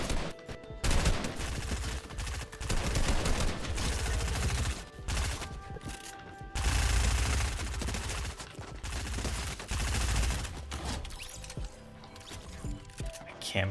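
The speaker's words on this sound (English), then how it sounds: "Kit's charged shotgun. Probably the hard hitting shotgun in Season 3." Bursts of heavy shotgun fire from Kit's charged shotgun in a Fortnite match, loud repeated blasts with short gaps, mixed with other gunfire and game sounds.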